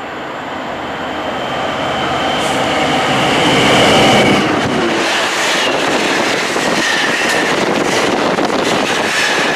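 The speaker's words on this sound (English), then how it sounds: "this freight work is a GBF train which has gone from East Midlands Gateway to Seaforth" GBF freight train passing on the Chase Line, running from East Midlands Gateway to Seaforth, a loud close rumble of wagons with rhythmic wheel clatter and metallic squeal, building then holding steady.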